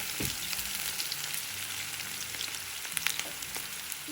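Onion sizzles in hot oil with slit green chillies and curry leaves for a cauliflower masala curry, a close, steady crackling fry with small bright pops scattered through it.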